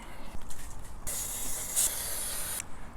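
An aerosol lubricant sprays onto the chain of a Triumph Bonneville motorcycle in a single steady hissing burst lasting about a second and a half, close and moderately loud, with faint rustling before and after.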